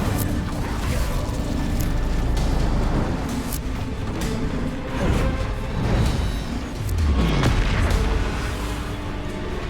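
A fire spell being cast in a wizard video game bursts out as deep, rumbling booms and whooshing blasts over a continuous heavy roar, with several swelling surges across the stretch.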